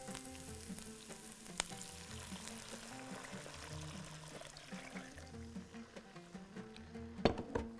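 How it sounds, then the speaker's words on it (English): Water is poured into a hot pot of Machboos cooking with calamari, clams and crabs, producing a faint, continuous sizzle and bubbling hiss with small clatters and no talking. "I'm going to add water."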